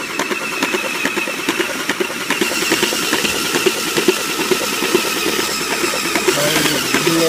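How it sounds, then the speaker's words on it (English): A homemade peristaltic pump, made from a cake pan, caster wheels and silicone tubing and driven by a cordless drill, runs steadily with a loud motor whine and a fast, even run of rhythmic clicks throughout. "The drill gives me nice variable speed."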